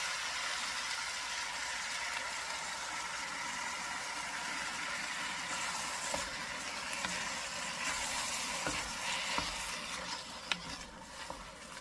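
A spoon stirs Gullah shrimp stew with okra and tomatoes in a pot, a steady soft scraping and sloshing over a constant simmering hiss, with a few faint clinks near the end.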